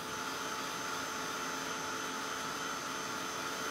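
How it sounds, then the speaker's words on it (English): A heat tool blows hot air over ink on a handmade card, a steady close-up whooshing hum held at an even level throughout. "So I'm just gonna use my heat tool to kind of just dry them up a little faster."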